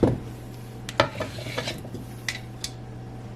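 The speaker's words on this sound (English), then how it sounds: "I'm going to come and put it in my bowl as well" Cut potatoes tumble into a bowl for sopa de salchichon, a few close clattering knocks and scrapes spread across a steady low hum, with a final louder thud at the end.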